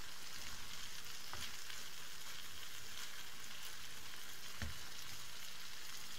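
Sucuk and pastrami frying in a pan for Turkish menemen, a steady close sizzle with soft crackles and two brief sharper pops or utensil clicks, no talking.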